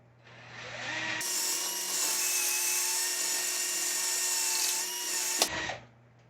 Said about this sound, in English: take a well-charged drill and a 1/4-inch masonry bit